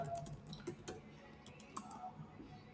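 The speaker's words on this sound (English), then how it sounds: "I'll just type that." Typing on a computer keyboard while entering text in Chrome developer tools, a quiet scatter of light clicking keystrokes in irregular short bursts, close by, with no talking.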